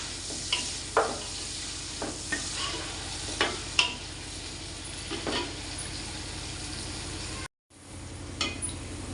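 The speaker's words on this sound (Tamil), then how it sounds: "நான் ஒரு நாலு பெரிய சைஸ் வெங்காயம் எடுத்துருக்கேன் போட்டு நல்லா பொன்னிறமாக வர வரைக்கும் நல்லா வதக்கலாம்" Four large onions sauté in a pan for biryani, giving a steady close sizzle while a spoon stirs now and then with soft scraping strokes, no talking.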